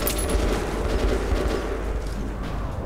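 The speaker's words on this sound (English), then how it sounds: "You're shooting still." Sustained gunfire from a shotgun and other weapons while fighting mutants in the video game Metro, a dense, continuous roar of shots and blasts close up without clear gaps.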